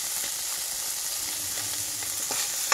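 Small fish fry in a pan with a steady, close crackling sizzle that holds even throughout, ending in a brief sharper spit, with no talking.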